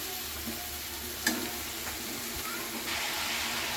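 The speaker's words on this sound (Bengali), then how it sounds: "সামান্য একটু জল দিলাম, দিয়ে নাড়িয়ে নিচ্ছি।" Cauliflower and potato fry with spices and a splash of water in a pan, giving a steady close sizzle and hiss with soft stirring scrapes and one brief clink.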